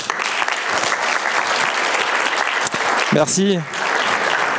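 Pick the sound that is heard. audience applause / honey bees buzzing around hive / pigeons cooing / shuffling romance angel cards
audience applause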